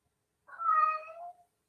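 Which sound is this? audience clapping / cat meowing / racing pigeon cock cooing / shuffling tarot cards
cat meowing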